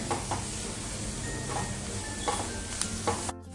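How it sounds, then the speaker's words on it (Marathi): Two medium onions, sliced lengthwise, fry lightly in a pan with a constant sizzle, punctuated by several soft stirring scrapes before the sound cuts off abruptly. "त्याच पॅनमध्ये कांदा भाजून घ्यायचा आहे"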